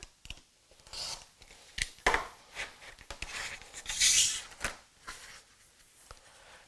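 A fabric strip cut into 2.5 inch increments for diamond shapes, giving a few soft snips and rubbing handling noises at close range, with no talking.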